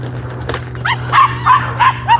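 A dog on a farm near penned young animals gives a quick run of four or five sharp yips and barks, close and fairly loud, with no talking.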